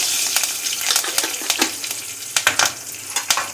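A clove, curry leaves and cumin tempered in hot oil, giving a steady loud sizzle with crackling spatters and a few light clinks of stirring.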